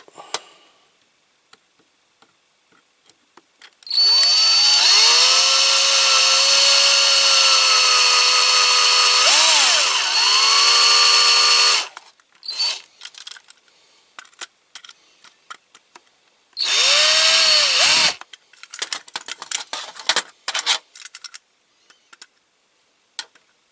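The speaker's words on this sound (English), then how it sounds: "I've just punched a little indentation in those with the punch so that I can drill" Power drill boring into a Corgi Major toy Chipperfields crane truck during restoration: two loud, close bursts of high whine, the first long with pitch dips as it bites, the second short, separated and followed by scattered ticks and clatter.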